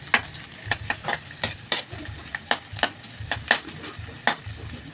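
Garlic and onion sautéing in a pan while being stirred, a soft steady sizzle broken by scattered clicks and scrapes of the utensil against the pan, close and fairly quiet.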